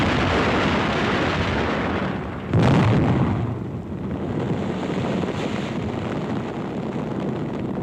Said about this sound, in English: A heavy concentration of anti-aircraft fire brings further losses in Allied planes